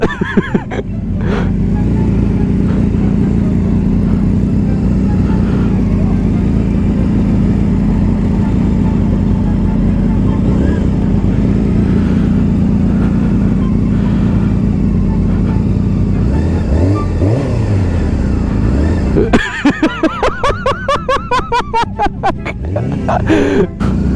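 A sport motorcycle engine drones steadily at close range through most of the stretch, then blips and revs in short bursts near the end while people talk over it.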